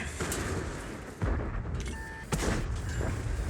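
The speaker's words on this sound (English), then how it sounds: "armor not penetrated. I take a shot from the AT-15" AT-15 tank shells strike in World of Tanks, two heavy thuds about a second apart landing loud and near against a rumbling engine and battle din.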